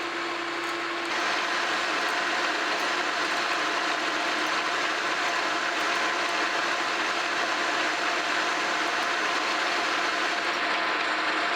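A metal lathe turns a long shaft without coolant in a steady, continuous whir with a fine, gritty cutting hiss and a faint mechanical clatter, holding an even level throughout.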